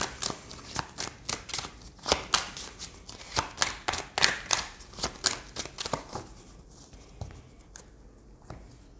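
Oracle cards are shuffled by hand in a rapid run of crisp, papery riffles and slaps, close and fairly quiet, thinning out toward the end.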